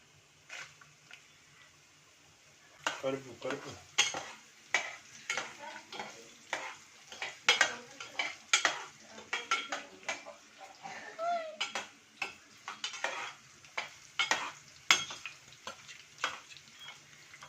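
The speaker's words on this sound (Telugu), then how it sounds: "ఉల్లిపాయలు, క్యారెట్ ముక్కలు వేయాలి ఆయిల్ లోపలికి" Oil sizzles softly as carrot pieces fry, under repeated scraping and stirring of a utensil against a pan, with clinks of metal in an irregular rhythm.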